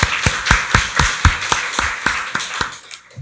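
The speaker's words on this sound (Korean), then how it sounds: "박수로 하나님께 영광 돌리겠습니다" A church congregation claps in unison during a Sunday worship service, about a dozen sharp, evenly spaced claps in a steady rhythm that stop abruptly, with no talk over them.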